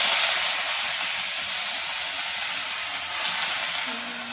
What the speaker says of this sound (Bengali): এরপর আমি শাকগুলো দিয়ে দেবো